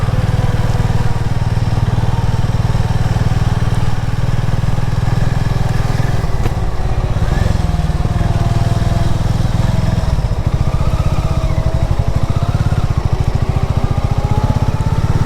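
A Harley-Davidson motorcycle engine rumbles loudly and steadily throughout while riding, deep and rough with constant throb, vibration and some wind noise.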